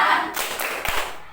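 Sixth-grade schoolchildren in a classroom clap out a short Tepuk P5 chant, a quick burst of a few sharp, close hand claps and taps fading toward the end.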